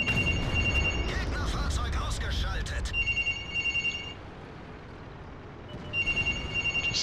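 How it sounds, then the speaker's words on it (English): A telephone rings in repeated double bursts near a person giving live game commentary, who keeps talking over and between the rings before they stop. "You have to excuse the phone going."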